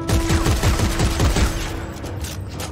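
Rapid shotgun blasts from the Dead Space 3 video game, a dense run of loud repeated shots in the first half easing into a steadier rumble of game noise, with no talking.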